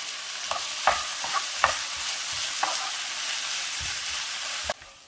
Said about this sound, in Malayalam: ബാക്കിയുള്ള എണ്ണയിലേക്ക് ഈ